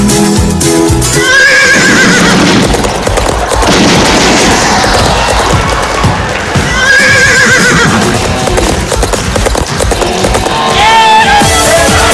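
A horse neighs loudly and repeatedly on a talent-show stage, long whinnies rising over a busy, echoing background with occasional booming thumps.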